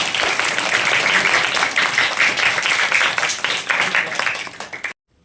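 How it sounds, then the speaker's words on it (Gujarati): Schoolchildren at a primary school clap together during a flag-honouring session, a loud, continuous burst of many small hands that holds steady for several seconds and then cuts off abruptly. "બહુ સરસ જોરદાર તાળી પાડો બધા"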